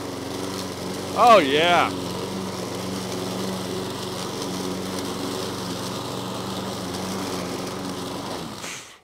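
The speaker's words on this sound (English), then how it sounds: "You won't find a smoother cutting lawnmower than this thing" A small Lawn-Boy push lawn mower with a Briggs and Stratton petrol engine runs steadily and fairly close while cutting, with a voice briefly exclaiming early on, then the motor cuts out at the end.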